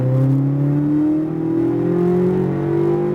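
A Corvette Z06 accelerates at full throttle on a race track, its engine note climbing steadily in pitch through a loud sustained roar heard from inside the car, with no talk.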